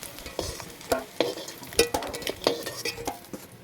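Eggs fried reddish-brown in oil are lifted out of the pan: a steady soft sizzle broken by repeated scraping strokes and light metallic clinks of a utensil against the pan, close by.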